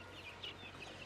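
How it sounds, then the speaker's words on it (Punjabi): A hen clucks softly in a few brief calls over a quiet background, fairly faint and close, with no voices. "ਆ ਠੀਕ ਹੈ ਮੁਰਗੀ ਹੈ ਕਿ ਮੁਰਗਾ"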